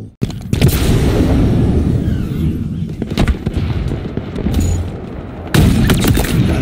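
Loud, dense gunfire and booming explosions from an S7 sniper rifle fight in the Halo Infinite video game, a continuous roaring barrage with sharper cracks near the start and a heavy blast toward the end.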